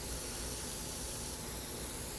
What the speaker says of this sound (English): let's go ahead and spray some dirt down